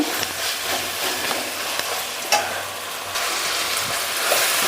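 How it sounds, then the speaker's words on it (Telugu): Thinly sliced tomatoes, about a cup, frying in oil in a pan for a village-style mushroom curry, giving a steady, close hiss and crackle throughout with faint clinks, no talking. "సన్నగా కట్ చేసుకున్న ఒక కప్పు టమోటాలు అయితే వేసుకుందాం వేసుకొని ఆయిల్లో బాగా ఫ్రై చేసుకుందామండి"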